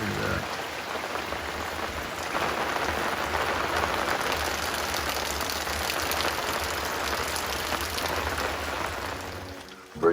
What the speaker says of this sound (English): You can see the rain come down right there.